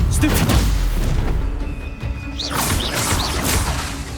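A Stupefy spell cast in the Hogwarts Legacy video game: booming, crashing impacts and whooshes with a few bright rising chirps, loud and dense over a continuous rumble of game effects.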